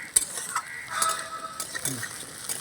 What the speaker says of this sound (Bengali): উনুনের আঁচটা এখন হাই করে দিয়েছি ঢেঁড়সের গায়ে যে লালা লালা ভাতটা থাকে ওইটা শুকিয়ে নেব আমি